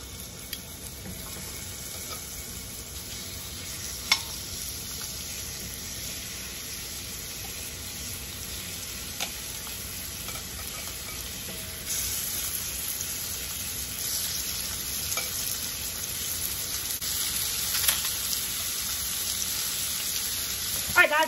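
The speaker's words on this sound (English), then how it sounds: "I'm going to add some avocado oil to the bottom of my skillet. And then we're going to go in with our shrimp." Shrimp sizzling in avocado oil in a hot skillet, a steady fine crackle that runs throughout and grows a little brighter partway through, with a few faint clicks and no voices.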